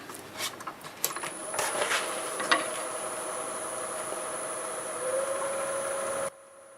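Wood turning on a lathe at about 740 RPM with a 5/8 full gouge, a steady whirring hum with a high whine and a few scraping bursts near the start, continuous and fairly close until it cuts off abruptly near the end.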